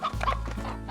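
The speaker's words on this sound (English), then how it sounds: "Holy, all the chickens." Chickens cluck in the video game Slime Rancher, a short burst of layered clucking calls over a steady low background hum.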